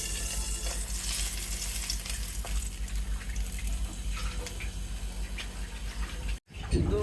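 A banana leaf fries in a little oil in a wok, giving a steady close sizzle with stirring scrapes that cuts off briefly near the end before resuming.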